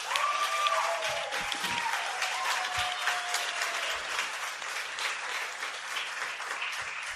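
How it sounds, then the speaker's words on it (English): A live audience claps and cheers in sustained applause for the host's husband, Tommy, a dense, steady burst of many hands lasting throughout with a few whoops on top. "Can we all give a round of applause to Tommy?"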